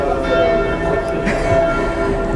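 An electric bell rings continuously during a lecture in a hall, a steady sustained metallic tone that fills the room, fairly loud, with no speech over it.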